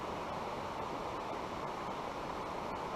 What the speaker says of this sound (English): Water going over the ledge.